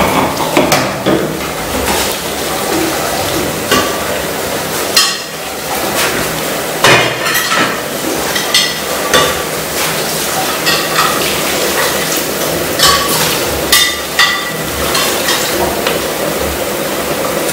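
Clattering kitchen sounds as beetroot and vegetables for red borscht are tipped into a pot of boiling water, with repeated knocks, clinks of metal, and a steady wash of bubbling water throughout.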